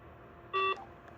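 A desk telephone's speakerphone button gives one short, clear electronic beep, close and alone against a quiet background.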